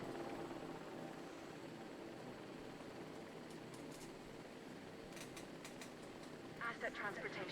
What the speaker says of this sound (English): So 1 helicopter will have to come back.